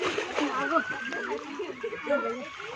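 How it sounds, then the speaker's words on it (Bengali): Someone dives into a village pond, with splashing and sloshing water heard under continuous nearby voices talking and calling out. "মাহমুদ ভাইয়া আরেকটা ডুব দেয়"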